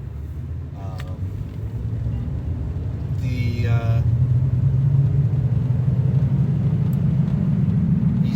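A 2017 Nissan Frontier Pro4X truck with a conventional automatic transmission driving on a cold day, a steady low engine and road rumble that builds slightly, heard from inside the cab with a voice talking over it.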